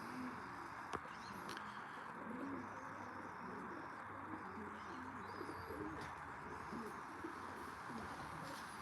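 Pigeons coo steadily at a pigeon loft, soft repeated low calls layered over a constant outdoor hum, with a few faint chirps and no clear talk.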